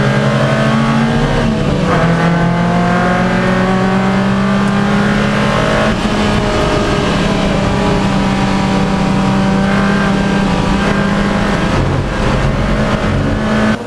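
Racing cars, a Lotus among them, at an Anglesey Roadsports race, with several engines roaring at high revs and shifting pitch as they accelerate and pass close by, loud and continuous throughout.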